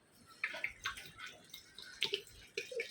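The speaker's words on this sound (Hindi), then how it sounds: "अभी इसमें पानी डालेंगे।" Water is poured from a one-litre bottle into dal with turmeric in a cooking pot, a run of splashy, gurgling bursts that come and go at close range, with no talk.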